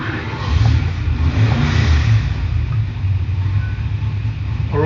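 A 408ci Cleveland V8 engine from a DIY kit runs and revs loudly, a thick low rumble that swells and eases in broad waves close by.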